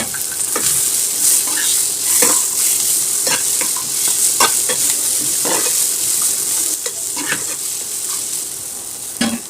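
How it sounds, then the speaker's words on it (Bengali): Pointed gourd (potol) peels fry in hot oil with turmeric, salt and garlic cloves, a close, steady sizzle broken by repeated scraping clicks as the pan is stirred. "হলুদ আর লবণ দেওয়ার পরে একটু নেড়ে ছেড়ে ভেজে নেব।"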